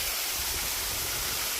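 Kremiotis waterfall pours in a dense, steady broadband roar, constant and fairly close throughout, with no voices.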